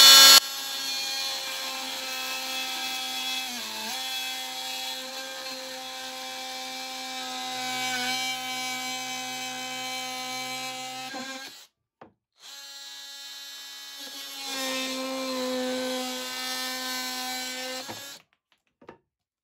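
A DeWalt DCS356NT cordless oscillating multi-tool makes a test cut in wood, its steady high-pitched buzzing whine running near and loud, dipping briefly midway before resuming and then cutting off.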